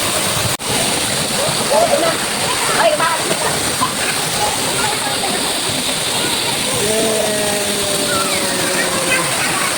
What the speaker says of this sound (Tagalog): malakas yung alon ng tubig ngayon malakas yung buga ng ating tubig